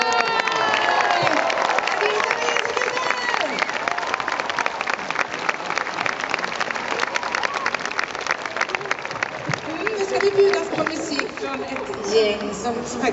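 Warm applause from a large outdoor crowd at a summer concert at the Liseberg amusement park in 2014, continuous loud clapping with some cheers and crowd chatter mixed in, lasting over ten seconds.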